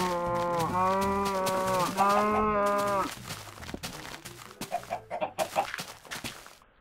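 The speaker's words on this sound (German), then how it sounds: "Ich sehe hier gar nicht mehr vor lauter Kühen." Several cows moo loudly in Minecraft, long drawn-out calls that overlap before giving way to sharp, scattered chicken clucks.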